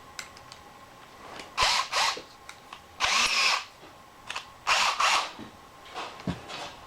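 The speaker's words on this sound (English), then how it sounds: "come in with this drill bit, and I can't remember what size it was" A power drill bores pilot holes with a drill bit during a gearbox build, in several short whirring bursts separated by pauses and small clicks and knocks, close and fairly loud, with no talk.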